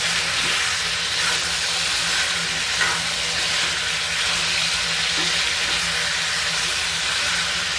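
Tomatoes and baingan bharta cook in a pan with a steady, close sizzle and faint bubbling that carries on evenly without a pause.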